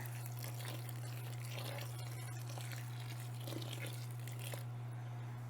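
Water pours into an emersed aquarium plant tank in a continuous, soft splashing stream under a steady low hum, stopping near the end.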